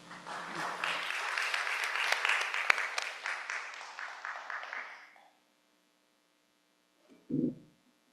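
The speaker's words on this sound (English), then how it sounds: "Please give them a round of applause." An audience in a Buddhist-Christian service applauds the choir: about five seconds of full, many-handed clapping that swells then tapers off into silence, followed by a brief low murmur of a voice.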